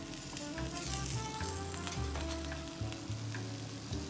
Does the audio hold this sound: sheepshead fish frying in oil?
yes